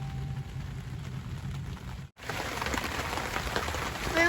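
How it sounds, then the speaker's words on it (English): Steady rain hisses continuously, with a short cut midway after which the rainfall sounds brighter and closer. "The rain's continuing."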